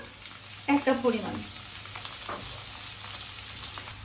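Carrots fry in a pan with chopped garlic and oil for a vegetable stir-fry, giving a steady, close sizzle throughout while a voice speaks briefly near the start.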